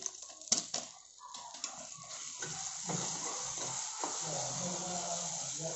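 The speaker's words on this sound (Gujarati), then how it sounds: "તો પાવભાજીનો મસાલો એડ કર્યો છે, તો હવે એને આપણે મિક્સ કરવાનું છે।" Spoon stirring pav bhaji masala into cooked tomatoes in a pan, with a few scrapes and clinks at the start and then a steady soft sizzle, quiet and close.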